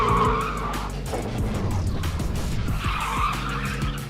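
A car skids through a handbrake turn, its tires squealing loudly and continuously over a rumbling engine, with the screech swelling at the start and again near the end.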